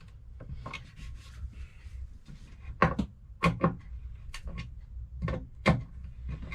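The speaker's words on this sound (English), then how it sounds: "I'm just going to make sure they're tight with a" A screwdriver tightens screws into a wooden DVD/CD bookcase being assembled on a boat, producing close, intermittent rubbing and creaking twists with sharper squeaky bursts, no talking.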